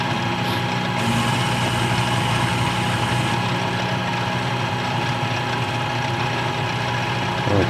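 A parting tool chatters against the workpiece on a lathe spinning at high RPM, a loud continuous grinding, vibrating drone that holds steady throughout with no voices.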